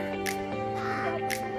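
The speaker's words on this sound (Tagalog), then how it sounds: "Close encounter with Uwak." A crow caws nearby at Camp John Hay in Baguio, two harsh calls about a second apart over a steady hum and faint background noise.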